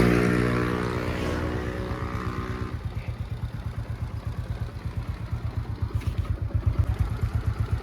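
A freshly rebuilt Suzuki Shogun 125 motorcycle engine starts up after a whirring crank, then settles into a close, rapid putt-putt idle with an even throbbing pulse.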